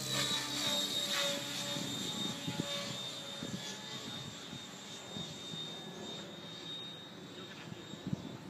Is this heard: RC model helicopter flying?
yes